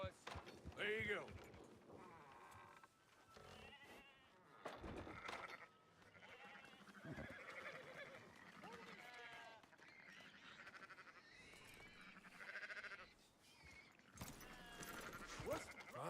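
Sheep bleating in the video game Red Dead Redemption 2, quiet wavering calls mixed in with ongoing character speech and faint buzzing ambience.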